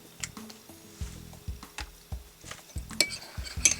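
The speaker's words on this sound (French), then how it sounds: "Et ici, je mélange le colorant rose." A utensil clinks and taps against a container in quick, irregular strokes, close and fairly quiet, as pink colorant is stirred into a clear soap mixture.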